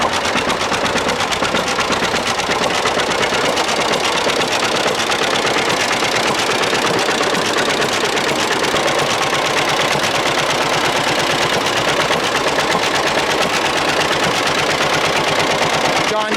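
A John Deere B tractor engine runs steadily and loudly up close, with a fast, even chugging beat that holds throughout.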